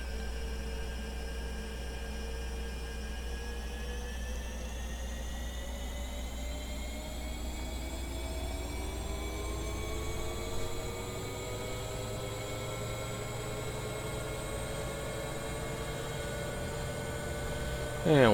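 A Bell 412 helicopter in X-Plane 11 spools up its engine, a steady whine with rising tones climbing gradually over a constant low rumble, loud and unbroken throughout.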